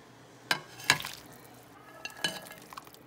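Shrimp and salmon stirred together in a pan, a few sharp utensil clinks against the pan over a low, soft sizzle, with no talking.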